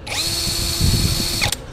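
A power drill spins up and runs steadily with a high whine for under two seconds, set to its iron-drilling mode, then stops abruptly; close, loud and with no talk over it.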